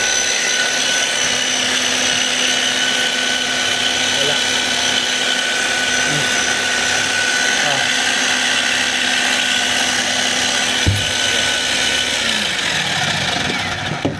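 A DeWalt D25901 10 kg jackhammer runs without hammering. Its motor gives a steady, close whirring drone that holds for about twelve seconds before winding down near the end.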